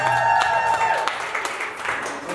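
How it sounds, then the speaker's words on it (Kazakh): Classmates at a 20-year school reunion clapping together: a short burst of brisk, close applause mixed with a voice at the start, tapering off within a couple of seconds. "Зояға қол шапалақтар."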